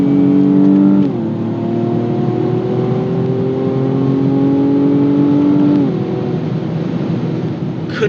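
Inside the cabin of a BMW M135i, the engine accelerates with a steady rising drone, easing through a gear change around one second and another near six seconds, muffled and moderately loud with no talk.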